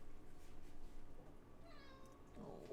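A cat gives a single short meow near the end, fairly faint against a low background rumble, with soft voices around it.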